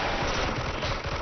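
Rapid bursts of pistol fire in a competitive first-person shooter match, close and loud, overlapping into a dense crackle.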